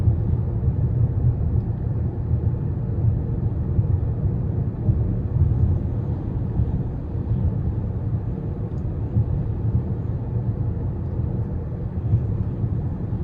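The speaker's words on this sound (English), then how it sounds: "I'm gonna sit here and just kind of let you hear the car for a minute." Steady low road rumble and engine drone inside a moving 2026 Toyota Crown Platinum Hybrid MAX, constant and fairly loud with no talking.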